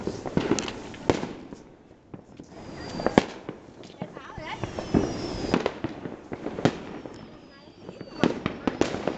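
Village fireworks on New Year's Eve keep going in a dense barrage of bangs and crackles with occasional whistles. The explosions sound near and far at once, and voices can be heard faintly underneath.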